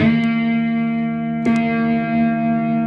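A sustained, fuzzy electric guitar chord rings through a distortion pedal, with two fresh pick strikes partway through keeping it humming.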